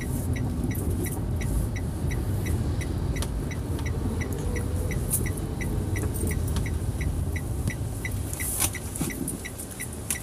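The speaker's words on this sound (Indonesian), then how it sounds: "di sini banyak bus Rosalia Indah" Rosalia Indah buses idle and move around a busy bus terminal, giving a steady low engine rumble with faint regular ticking, like an indicator, running through the whole scene at moderate distance.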